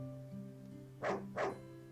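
Two short barks from a dog in the indie video game Alethria, evenly spaced over a steady game music bed with sustained tones.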